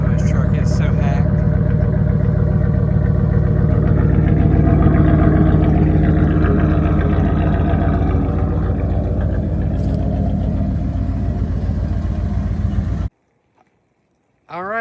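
A cheap engine in a Jeep build runs loudly through a hacked, poorly fitted exhaust, a rough, throbbing drone close by that cuts off abruptly near the end, with a voice talking over it.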